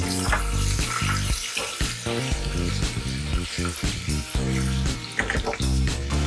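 Mustard seeds, chopped garlic, ginger and curry leaves frying in hot oil for a Sindhi kadhi curry, a steady loud sizzle and crackle with popping bursts, under faint music.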